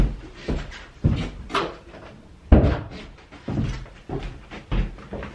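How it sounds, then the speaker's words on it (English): A room door is pushed shut with a series of close, hollow thuds and clunks spaced about a second apart, with no talking over them. "let me close the door."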